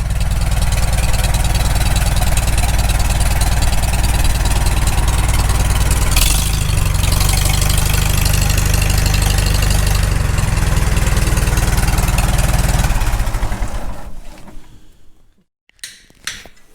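A rebuilt Farmall Super M tractor engine idles loudly and steadily at close range on its first start after the rebuild, a constant low rumble with sharp clatter, before it is shut off and dies away to near silence with a few faint knocks.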